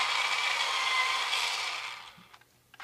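A Nero Medium pencil being turned in a sharpener gives a close, steady grinding rasp for about two seconds, then thins into faint scraping clicks as it stops.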